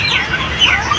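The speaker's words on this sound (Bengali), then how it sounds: "অনেক বড় বড় বিশাল বিশাল মুরগি।" Chickens at a poultry market clucking and calling close by, a dense overlapping chorus of squawks over a continuous market background.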